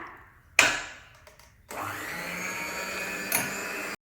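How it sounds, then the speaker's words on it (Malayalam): An electric hand mixer whips cream for homemade vanilla ice cream, a brief burst before it settles into a steady low-speed whir that runs continuously, close and moderately loud, with a small bump near the end. "അപ്പോൾ നമുക്ക് വിപ്പിംഗ് ക്രീം ബീറ്റ് ചെയ്യാൻ തുടങ്ങാം സ്പീഡിൽ ബീറ്റ് ചെയ്തിട്ട് വേണം ഹൈ സ്പീഡിലോട്ട് മാറ്റാൻ"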